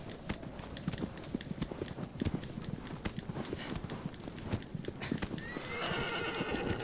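Hooves of the horse Roach clip-clop rapidly in Shadow of the Colossus, a brisk continuous gallop close by, with a whinnying neigh rising near the end.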